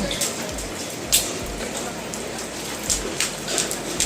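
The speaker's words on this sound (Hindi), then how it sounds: "कितने मोटे मोटे ओले पड़ रहे हैं, आवाज भी सुन रहे होंगे आप।" Large hailstones fall steadily in a dense patter, striking hard surfaces with occasional sharper impacts during an evening storm in India, while someone talks over it.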